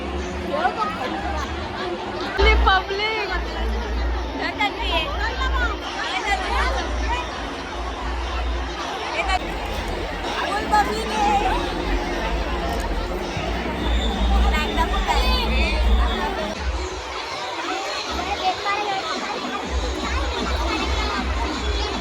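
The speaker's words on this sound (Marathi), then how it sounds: "इकडची वेगळी गर्दी आणि प्लस इकडं वेगळा आहे" Large crowd of women chattering at a Home Minister show shoot in Karjat, a steady dense babble of many voices close and far, with occasional louder shouts.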